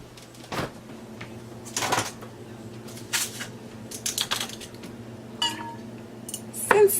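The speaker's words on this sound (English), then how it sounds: "And now let's get some ice." Ice cubes being scooped and dropped into a cocktail shaker for a vodka Cosmo, giving several separate hard clinks and clatters spread over the stretch, close and fairly quiet, with no talking.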